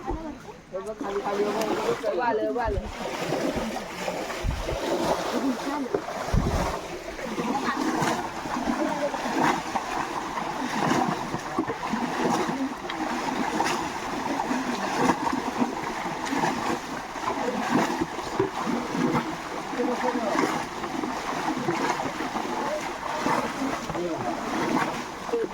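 Water splashes continuously as a pool is bailed out to catch fish, a dense, rushing churn with voices talking over it throughout.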